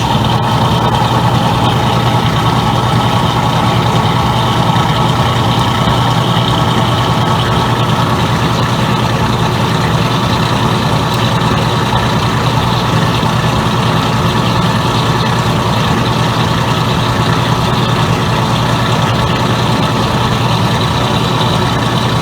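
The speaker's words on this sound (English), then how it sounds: "It might be same updates on this machine because it might be a loud bearing noise during the spin cycle." A Kenmore laundry center washer runs its spin cycle at around 600 RPM, a loud, steady, unbroken droning rumble with a constant mechanical hum suggesting worn bearings, with no voices.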